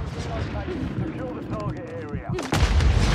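A grenade explosion in Call of Duty MW3 bursts loudly near the end with a deep boom, after a stretch of excited talk and background gunfire.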